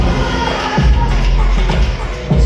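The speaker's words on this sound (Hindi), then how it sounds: "आज तालियां सिर्फ विकल्प के लिए बजे" An award night crowd at a live show claps and cheers loudly and densely, with thumping and shuffling mixed into the steady noise.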